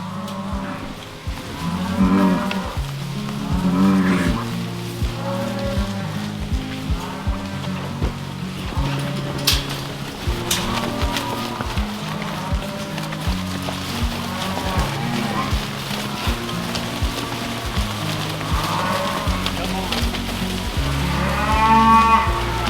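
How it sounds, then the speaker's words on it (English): A herd of beef cattle moos repeatedly, several loud, close calls overlapping as the cows push through an opened farm gate, with steady shuffling and movement noise underneath. "We just open the gate, and the cows will go busting through."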